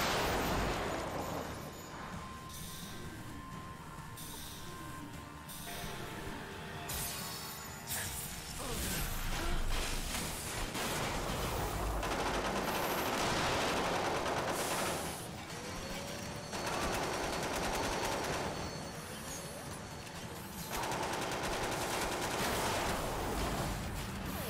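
Sniper rifle fire in the Xbox 360 video game Mindjack, heard as repeated sharp shots over a dense, loud bed of game combat noise and mechanical clatter, with no talking.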